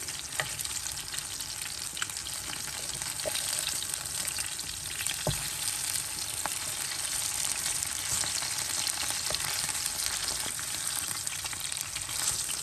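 Pieces of rohu fish fry in hot oil in a pan, giving a steady, close sizzle with a few faint clicks and taps from the cookware.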